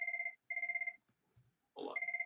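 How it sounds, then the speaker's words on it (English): A mobile phone ringtone plays a steady two-tone electronic trill in repeated bursts with short gaps, clear and fairly close, with a brief rustle between bursts and no talking. "My phone is ringing."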